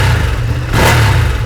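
A Ducati Streetfighter V2 motorcycle engine sounds loud and close, idling with a throaty rumble, then the throttle is twisted and it surges into a sharp rev before settling back.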